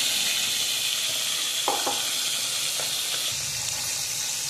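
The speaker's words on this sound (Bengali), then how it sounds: "মোটামুটি দু খোলায় মাছগুলো ভেজে নিলাম" Tengra fish fry in hot oil, giving a loud, steady sizzle with faint stirring clicks throughout.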